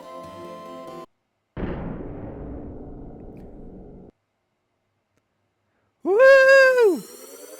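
A cannon in the SNES game Secret of Mana launches a traveller: a sudden loud blast that decays into a rumbling whoosh lasting a few seconds, set between a short tonal jingle before it and a rising and falling musical swoop after it.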